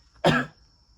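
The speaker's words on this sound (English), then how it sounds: "I've still got a little bit of a cough" A single short, dry cough, close and alone against a quiet room.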